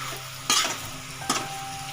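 Local chicken and potatoes with spices stirred in a hot pan, a steady close sizzle broken by two bursts of scraping as the mixture is turned.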